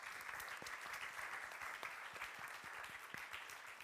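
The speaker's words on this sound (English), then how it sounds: "Let's also give them an applause if that's all right." Steady applause from a conference audience fills the room, dense clapping that carries on evenly for several seconds with no talk over it.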